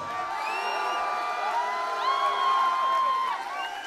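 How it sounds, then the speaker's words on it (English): Festival crowd at a live reggae show cheers and whoops in a loud, continuous wash of voices, with rising shouts and whistles swelling in the middle and holding near the end. "un maximum d'applaudissements, bibiche"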